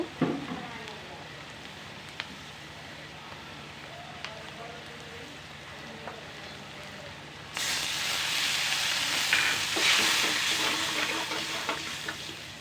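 Onion with turmeric and chili powder frying in a pan for a small-fish curry: a soft sizzle that grows into a loud, hissing fry about halfway through, with faint stirring scrapes and no talk.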